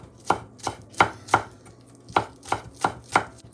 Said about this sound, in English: Okay, we cut green onion.